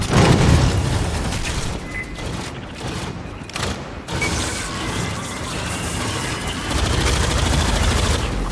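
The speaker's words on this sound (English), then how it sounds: "Grenade out!" A grenade explodes in Aliens Fireteam Elite amid a dense barrage of gunfire, with loud bursting booms and crashes near the start and end and steady rattling shots throughout.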